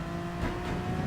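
A race car engine in Gran Turismo Sport revs with a steady, loud drone and rises slightly through a downshift, filling the whole short stretch with no talking.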